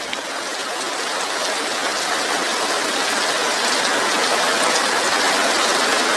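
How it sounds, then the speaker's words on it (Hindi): Heavy rain pours down at night in a steady, dense hiss that builds slightly over its length, with no voices. "भैया, बारिश बहुत तेज हो गई है।"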